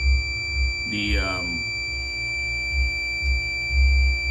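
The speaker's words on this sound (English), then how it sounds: "I'm simulating a close contact, and you can hear it beeping" A multimeter on continuity test with closed contacts gives a steady, unbroken high-pitched beep, moderately loud and close, running the whole time while someone talks briefly over it.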